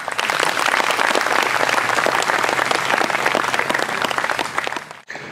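A crowd at a Carinthian singers' festival applauds warmly, steady close clapping that holds for several seconds and then cuts off.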